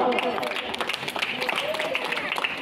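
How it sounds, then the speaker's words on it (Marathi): Audience at a school costume and drawing competition prize ceremony clapping for a contestant, a steady patter of applause heard under an announcer's voice. "जोरदार टाळ्या, जोरदार टाळ्या"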